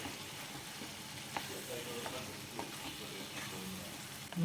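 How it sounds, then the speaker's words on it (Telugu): Ground masala powder frying in a pan for chintachiguru chicken curry, a steady soft sizzle with faint stirring scrapes running throughout, close and moderately quiet. "ఇప్పుడు ఇందులోకి మనం మిక్సీ చేసుకున్న మసాలా పొడి ఒక రెండు స్పూన్లు వేసుకొని టూ మినిట్స్ బాగా ఫ్రై చేసుకోవాలి"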